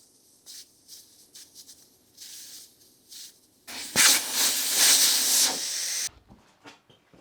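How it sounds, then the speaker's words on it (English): Air rushes out of an opened tire valve on a Princess 2200 car: after a few soft clicks and fiddling sounds, a loud, steady close hiss runs for about two seconds and stops abruptly, followed by light handling noises. "I want to take all the air out of the tire"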